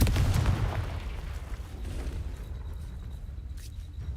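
A Confringo fire spell blasts in the video game Hogwarts Legacy, a heavy booming burst up front that decays into a rumbling fiery tail, loud and close with no talking.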